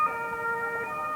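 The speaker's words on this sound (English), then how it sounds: "And David, I hope you can hear me over the siren" An emergency vehicle siren wails during a news report on NATO action in Kosovo. It is a steady, tonal, harmonic note at moderate distance, sounding alone without speech.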